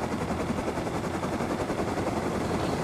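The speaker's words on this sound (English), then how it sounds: "you're gonna hold W and that'll start up your blades" A minicopter in the game Rust spinning up its blades, a loud, dense, rapid thudding chop that holds steady throughout, no talking.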